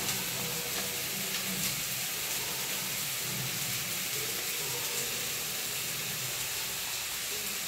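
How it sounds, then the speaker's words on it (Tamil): Sundakkai sautéing in hot oil with mustard seeds, curry leaves, chillies and onion, giving a steady, dense sizzle throughout with a few faint scraping stirs. "இப்போ இதோடு வந்து நம்ம அரிஞ்சு வச்ச காயும் வந்து ஆட் பண்ணி நல்லா வதக்கணும்."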